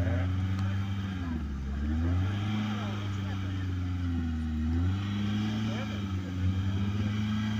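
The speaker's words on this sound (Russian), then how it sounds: "Я тебя не слышу вообще, он газует." A Lada Niva car engine drones and revs at an off-road race, its pitch rising and falling in several swells, heard up close with a steady mechanical roar.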